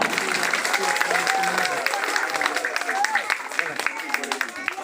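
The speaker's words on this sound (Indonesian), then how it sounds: "Tepuk tangan." A crowd applauds at a community reading hut in Kampung Kabor, Sikka, Indonesia: dense, steady clapping from many hands, with a voice speaking over it.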